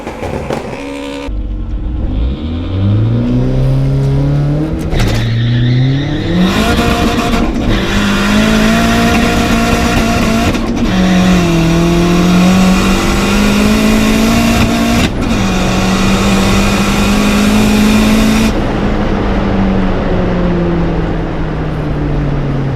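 A 2.0 16v turbo Mk2 Golf GTS makes a night racing pass, its engine roaring loud and close. Pitch climbs through several gears, each shift cutting sharply before the drone rebuilds, until it fades near the end.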